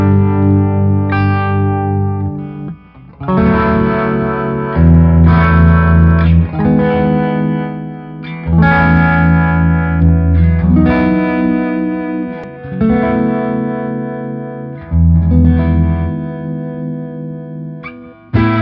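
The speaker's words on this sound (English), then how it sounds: "We'll fool around with a little harmonic tremolo." Holland Strat electric guitar played loud in a small room through a Supro harmonic tremolo pedal, sustained chords repeatedly struck and left to ring with a pulsing, wavering effected tone, no voices.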